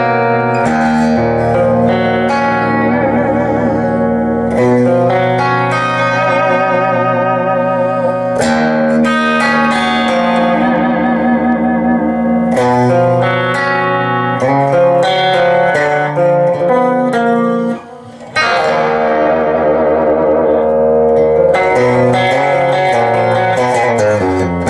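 An electric guitar plays sustained, gritty distorted chords through a Boogie amplifier with a pushed clean channel, loud and continuous with a brief drop near the end.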